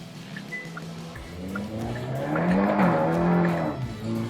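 A tuned 2024 Hyundai i30 N with bolt-on modifications revs loudly nearby, its engine note rising and falling with a rough exhaust edge and scattered sharp pops from the exhaust, steady and continuous throughout.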